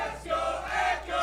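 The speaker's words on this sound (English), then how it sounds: "the crowd getting hype" A large arena crowd roars and cheers in rising waves at a live CS:GO esports match, the Heroic vs Echo Fox third-place game on Nuke at Northern Arena Toronto 2016, with no one talking over it.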